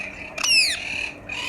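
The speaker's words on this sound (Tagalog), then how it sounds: "Isang Indian ringneck na green at mukhang tumain na siya" A green male Indian ringneck parakeet gives a single short, shrill squawk that rises and then falls, loud and close, over quiet room tone.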